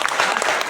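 Audience at a charity event in a village barrio applauding, a brief dense burst of clapping from many hands.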